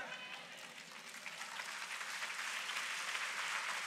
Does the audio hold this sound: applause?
yes